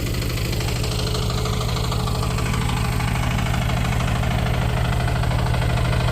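A motor tractor powers a homemade sprayer, the engine idling in a loud, steady rapid thump near the listener, a continuous mechanical drone throughout with nobody talking.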